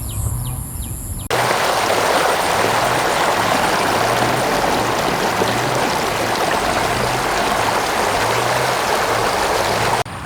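Water rushing along a green forest area, a loud, steady, close wash of flowing water that begins abruptly after a quieter opening second and runs unbroken, with faint low thumps beneath.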